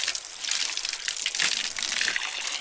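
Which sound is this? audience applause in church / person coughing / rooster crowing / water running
water running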